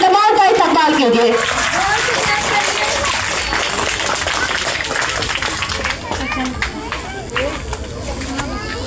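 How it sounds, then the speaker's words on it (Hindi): Loud, dense applause from a school audience at a Republic Day function, steady clapping filling the space with crowd noise and some voices mixed in, tapering slightly toward the end. "सारे बच्चों को हौसला अफजाई के लिए जोरदार तालियां बजाकर इन तमाम का इस्तकबाल कीजिए"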